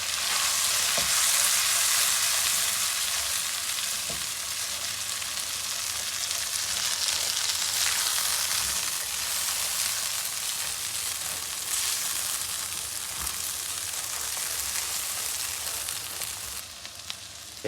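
Boneless beef masala with cumin and garam masala fries in a pan, a dense, even sizzle and hiss that holds steady throughout with a few faint stirring scrapes, close and loud, with no voices.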